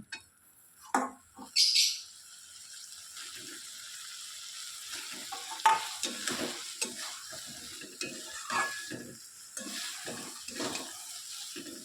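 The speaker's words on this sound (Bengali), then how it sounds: "এবার চালটা দিয়ে ভালো করে কষিয়ে নেব। এবার এর মধ্যে আলুটাকেও দিয়ে দেবো, আলুটা দিয়েও একটু কষিয়ে নেব।" Rice and then potatoes being sautéed in a pan for a quick rice, potato and egg dish, with irregular scraping stir strokes over a low sizzle and a couple of louder clatters near the start.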